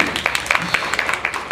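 An audience at The Prosperity Summit in Nashville claps in brisk, fairly regular beats, with voices talking over the sharp claps throughout.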